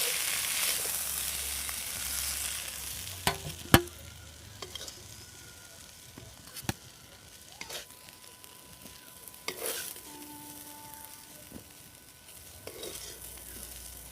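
Cooked chicken filling stirred in a pan, a soft continuous scraping and low sizzle with several sharp spoon clicks against the metal, close and fairly quiet, no talking.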